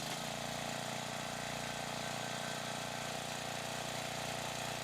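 A Gap Power log splitter's small engine running at a steady idle, a constant mid-pitched drone with no change in speed, heard alone and fairly quiet.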